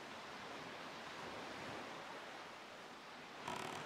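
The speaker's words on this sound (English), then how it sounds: "with how big those waves are" Large ocean waves in Wind Waker HD give a continuous, broad roar of surf and wash, fairly quiet and unbroken, with a slightly brighter splash near the end.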